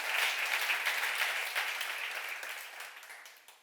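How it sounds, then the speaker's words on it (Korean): A congregation at a church seminar gives a soft, steady round of applause that slowly tapers off, heard at a distance and fairly quiet. "박수 하세요."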